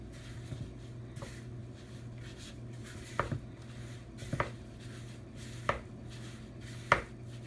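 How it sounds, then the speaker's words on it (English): A spoon stirs flour into bread dough for cheese buns in a bowl, giving faint, soft scraping with a handful of dull knocks against the bowl over a quiet kitchen hum. "we're going to gradually stir in the rest of the flour"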